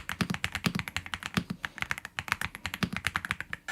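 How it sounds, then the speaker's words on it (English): Fast typing on a Rapoo V700 wireless mechanical gaming keyboard, a quick, even run of soft, creamy keystrokes at close range with no talking. "Starting with the Rapoo V700, it's a wireless mechanical gaming keyboard with an addictive creamy sound."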